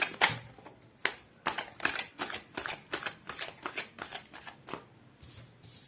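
Tarot cards being shuffled by hand, a steady series of papery riffles and flicks repeating roughly every half second, close and soft, with no talking.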